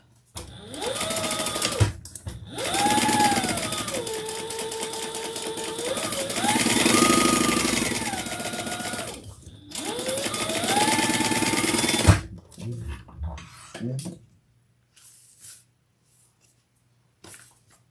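A sewing machine bastes stitches around the edge of a piece of fabric, running in several long, steady, close bursts with brief pauses in between, then falling quiet after some softer handling noises.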